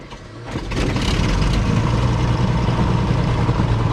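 A Piper Comanche 250 aircraft engine cranks and catches, then settles into a loud, steady, throbbing idle rumble close by.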